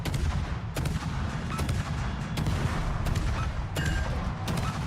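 Warship main battery guns firing in World of Warships, several heavy booming salvos at irregular intervals over a constant loud low rumble of battle noise, with no talk.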